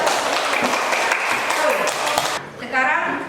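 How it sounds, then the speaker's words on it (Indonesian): A classroom of students gives a burst of applause, dense steady clapping for about two seconds, then it cuts off and a voice is heard speaking briefly. "Ya, kita kasih aplaus."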